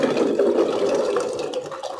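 Water sloshes and splashes steadily as scored olives are dropped in, a close, continuous liquid churn with no talking.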